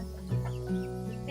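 Chickens on a small hobby farm cluck close by in a short burst of low, repeated calls.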